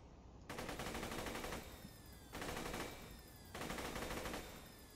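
A legendary orange assault rifle in Borderlands 2 fires three sustained rapid-fire bursts, each about a second long, separated by short pauses. The shots are close and steady, with no talking.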